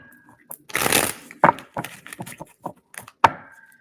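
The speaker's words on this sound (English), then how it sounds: "Let's do one more shuffle." Tarot cards being shuffled by hand, a series of crisp riffling bursts and soft slaps, with one longer flurry early followed by several short separate shuffles, close and fairly loud with no talk.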